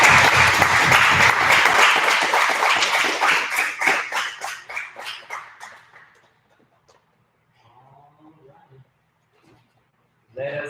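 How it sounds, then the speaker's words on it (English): Audience applause at a martial arts belt presentation, loud and dense at first, then thinning into scattered claps that fade out, followed by a quiet pause and brief murmurs. "Give them one more big round of applause."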